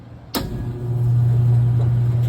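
A rooftop HVAC supply fan motor kicks on with a sharp click as the contactor pulls in, then a low, steady hum rises and settles into a constant drone.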